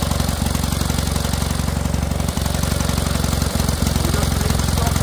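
Vintage Kohler generator engine running steadily and loudly up close, a dense rapid knocking drone with a few brief dips in its rhythm, powering a home-made light box.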